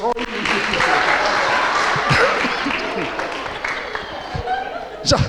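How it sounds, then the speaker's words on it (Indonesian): A crowd applauds steadily for several seconds, broad clapping noise with some cheering voices and laughter mixed in. "berikan tepuk tangan Roy."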